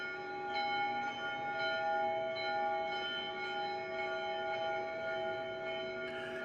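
Church bells ring at the Church of the Holy Sepulchre in Jerusalem, their sustained, resonant tones overlapping in a continuous, somewhat distant peal without pause.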